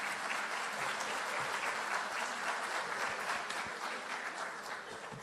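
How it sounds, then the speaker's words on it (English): A hiring-event audience at a school district recruitment gathering claps steadily and loudly the whole way through, a dense, even wash of hands with no voices rising above it. "Can we please get another round of applause for our Chief Human Resources Officer, Jessica Neiman."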